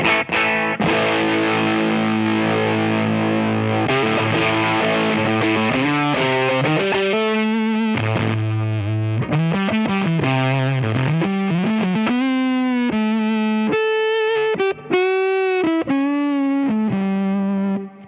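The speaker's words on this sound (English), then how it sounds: "I've got the Dunlop Jimi Hendrix mini fuzz face, which sounds just amazing, really." An electric guitar through a Dunlop Jimi Hendrix mini Fuzz Face pedal plays a run of distorted notes and bends, thick and sustained, loud and close with no talking.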